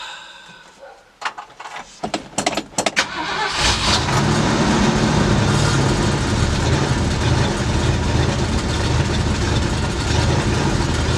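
A 1965 Ford Galaxie with an Edelbrock carburetor cranks with a few clicks and bursts, then catches and settles into a loud, steady, rumbling idle close to the microphone.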